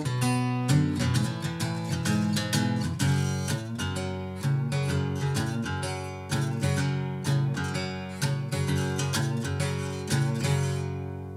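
Guitar playing a chord part, bright plucked notes and ringing chords in a steady repeating rhythm, clear and close with no talking.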